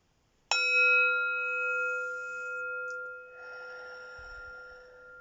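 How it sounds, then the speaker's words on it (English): A Tibetan singing bowl is struck once like a bell, giving a sharp, close attack followed by a long, clear ringing tone with steady overtones that slowly fades over several seconds in a quiet room. "I'm going to use my Tibetan bowl and ring the bell"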